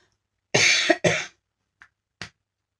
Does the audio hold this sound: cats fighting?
no